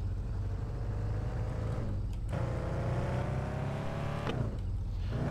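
A car drives in Car For Sale Simulator 2023 with a steady engine drone and a tonal hum that drops away and returns twice, shifting like gear changes, heard alone and close.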